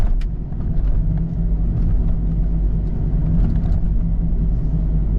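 Salvage BMW Z4 driving on tight roads, heard from inside as a steady, loud low road rumble and engine drone with faint tyre noise, with no talking.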